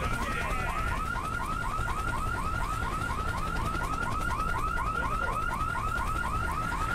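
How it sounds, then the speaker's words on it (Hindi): A warbling alarm in the video game IGI 2, during the weather station mission, rings steadily and loudly for the whole stretch, its rising-and-falling siren cycle repeating in a fast, even rhythm with no talk. "भाई अलार्म किधर से बज रहा है भाई इसको बंद करने के लिए"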